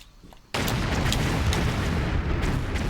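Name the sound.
explosions in Tomb Raider Level Editor game Jungle Ruins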